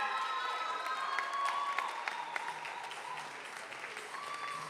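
An audience at a youth business awards ceremony in KwaZulu-Natal breaks into sustained applause mixed with cheering, a steady, dense wash of clapping that holds at an even level throughout.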